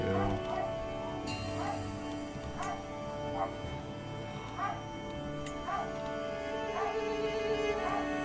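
A dog barks and whimpers in short repeated yips and whines at moderate distance, recurring every second or so over a steady background hum.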